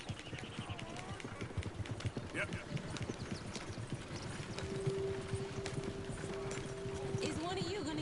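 Horse hooves clip-clop in a video game, a steady rhythmic clatter running through the whole stretch beneath ongoing voices and game ambience, with a brief whinny-like tone partway through.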